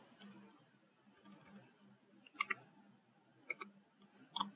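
Sparse, quiet clicks of keys on a computer keyboard as a short search is typed, arriving in small irregular clusters with gaps between.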